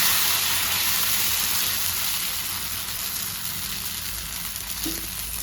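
A dosa roasts with a little oil on a hot pan, making a steady, soft hissing sizzle that holds close and even, slowly easing in loudness, with no talk over it.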